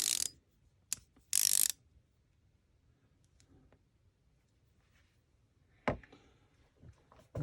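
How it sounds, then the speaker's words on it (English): A composite 1/4-inch ratchet clicks in a few short, sharp bursts separated by quiet pauses, close and crisp with no talking. "this one is mainly for the 1/4-inch ratchet collection"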